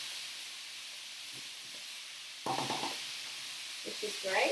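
Vegetables and mushrooms sizzling in a stir fry pan, a steady bright hiss throughout with louder bursts of frying and stirring toward the end, a voice speaking briefly over it.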